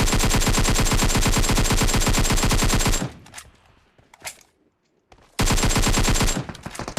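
Rapid automatic gunfire from the mobile battle royale game PUBG Mobile, loud and close: a sustained burst for about three seconds, a short gap with faint scattered shots, then another sustained burst.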